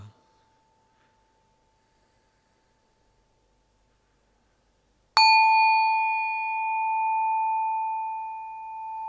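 A Tibetan bell is struck once during meditation and rings out with a clear, sustained metallic tone that slowly pulses and fades, preceded by a faint lingering hum.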